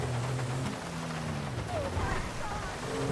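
Rain patters steadily on surfaces in GTA 5 Online while a car sits or idles nearby, a continuous even wash of drops with a faint low engine tone underneath.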